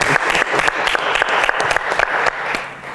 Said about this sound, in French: Allez, on peut applaudir quand même notre cher ambassadeur.